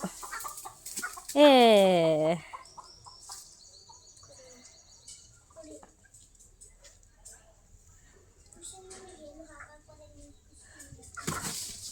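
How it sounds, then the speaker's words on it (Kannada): In a village chicken shed, a loud drawn-out hen squawk rises early, followed by scattered soft clucks and chirps against a quiet background with a faint voice. "ನಮ್ಮೂರ ಕೋಳಿ ನೋಡ್ರಿ."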